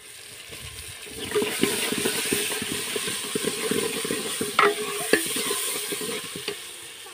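Potatoes stirred into tomatoes and onions frying in a pan in a village kitchen: a steady sizzle and hiss under repeated scraping and stirring clatter, with a few louder knocks of the spoon near the end.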